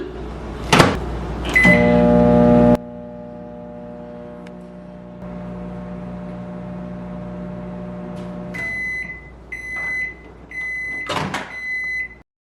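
Microwave oven cooking chickpeas: a door clunk and button beeps, then a steady low mechanical hum while it runs, followed by a series of sharp electronic beeps and a final door sound.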